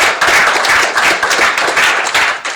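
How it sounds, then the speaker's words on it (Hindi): Audience applause welcoming a poet onto the stage at a Hindi poetry gathering, a dense, steady burst of clapping that fills the hall loudly for a couple of seconds and trails off at the end. "जोरदार तालियों से मंच पर स्वागत करूंगी"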